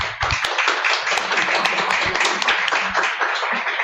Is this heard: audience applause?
yes